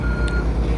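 Reversing beeps from a construction truck at an asphalt road-paving site, with loaders and other heavy equipment nearby; a steady tone sounds under constant low engine rumble through the short stretch.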